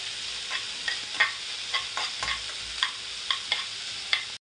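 Chopped onion sautéing in oil in a pan, a steady close sizzle broken by repeated scraping stirs at an uneven rhythm, no talking.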